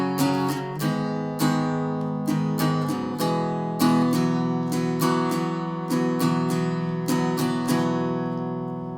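An acoustic guitar strums the chords of the second verse part of a song in a cover version, with a clear down-and-up rhythm of ringing chords played alone and up close.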